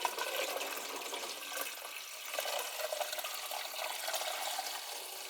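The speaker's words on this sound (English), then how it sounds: "We're gonna put some water in it." Water poured into an AC condensate pump makes a steady, close splashing and trickling for several seconds, fairly quiet, with no talk.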